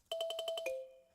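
Emulated kalimba notes played at unvarying velocity: seven quick identical plucked tones in an even, rapid rhythm, the last note ringing out and fading, clear and soft with nothing else around.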